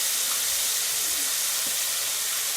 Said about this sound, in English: You hear how it's sizzling?